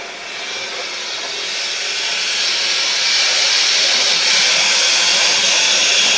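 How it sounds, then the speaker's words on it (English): A boiling steam vent hisses in the industrial machinery of Amnesia: A Machine for Pigs, a loud, continuous broadband rush that swells slightly over six seconds without pause, with no speech. "the thunder of machinery, the blasts of boiling steam"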